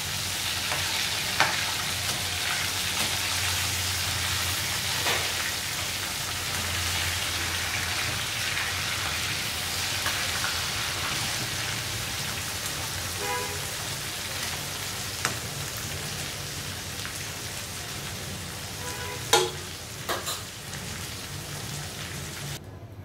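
Vegetables fry in leftover fish-frying oil on a stove, giving a steady, dense sizzle across the whole stretch with a few faint clinks and stirring knocks, and no talking.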